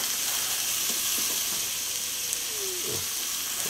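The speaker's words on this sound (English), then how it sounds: "The frying pan not big enough for all this." Barbecue pork (char siu) sizzling in a frying pan, a steady hiss of frying with a few soft stirring scrapes near the end.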